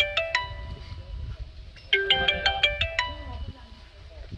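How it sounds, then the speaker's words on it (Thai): A phone ringtone for an incoming call, a bright repeating melodic chime that plays in short bursts, starting and then sounding again more strongly, with faint talk and room noise underneath. "เดี๋ยวนะคะมีสายเข้ามา"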